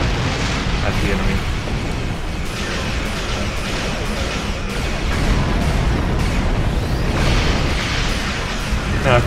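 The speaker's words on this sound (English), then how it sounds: "There's that little experimental proton weapon, it's like firing little javelin energy things at the enemy." Experimental proton weapon in the Star Trek Online space game firing bolts of energy amid dense, continuous booming and crackling battle noise, loud and steady throughout with rapid bursts layered over a rumbling bed.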